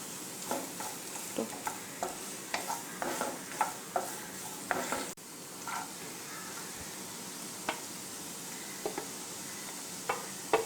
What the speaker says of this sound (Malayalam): ചെറുതായിട്ടൊന്ന് വഴറ്റിയെടുക്കുകയാണ് വേണ്ടത്